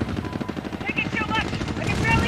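Helicopter chopper gunner firing in the Modern Warfare video game, heard as rapid rhythmic bursts of gunfire over the rotor rumble, with players talking over it.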